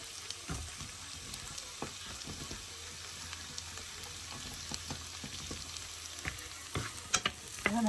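Garlic sautéing in butter in a pan for a vegetable stew, a soft, even sizzle with scattered light pops and a few utensil taps, fairly quiet and close, with no one speaking.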